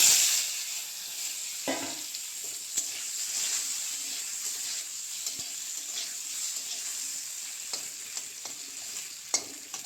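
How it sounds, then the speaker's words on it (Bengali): Par-boiled potatoes frying in mustard oil with salt and turmeric, a steady close sizzle and hiss with occasional sharp clicks and scrapes of stirring, no talking. "আলুগুলো আগে থেকে একটু ফাঁপ দিয়ে নিয়েছি, এখন ভাজি করে নেব"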